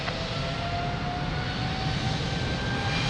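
An aircraft taking off from Lisbon Airport, a continuous heavy engine roar with a low rumble and a faint whine, steady and fairly loud throughout, with no talk.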